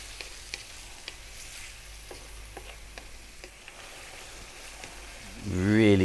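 Sweet and sour pork sizzles steadily in a hot pan while being stirred, with sharp scrape clicks; near the end a louder burst of low-frequency noise swells in.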